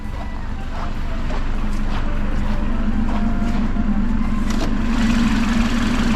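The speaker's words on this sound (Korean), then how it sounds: "엔진 소리" A 2018 BMW 530i (G30) 1998cc engine idles up close in the open engine bay, a steady, loud low rumble that holds constant throughout.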